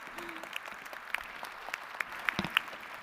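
Sparse applause from a commencement audience at a winter university graduation ceremony, a soft wash of scattered claps with a few sharper hand strikes standing out, fairly quiet and distant.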